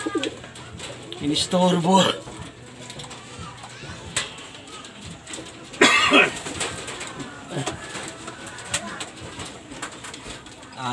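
Racing pigeons in a loft give low, soft cooing calls close by, with a few wing flutters and handling noises under someone talking in Filipino.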